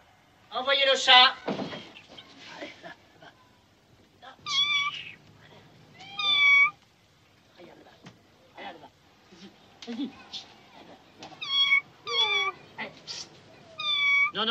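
A cat meows repeatedly in short, rising cries, close by, with a few bumps and thuds of movement between calls.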